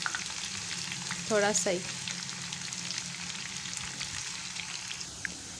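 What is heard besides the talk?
frying chopped onion for saag tadka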